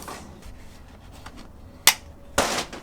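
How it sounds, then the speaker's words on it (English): Metal snips cut through extractor fan ducting, giving two sharp, close clicks about half a second apart over a quiet room. "And we'll just slice that round there. Get our snips."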